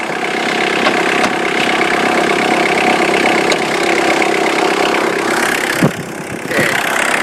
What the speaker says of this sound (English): You can hear the diesel, and it's still cold. So it'll rattle more when it's cold.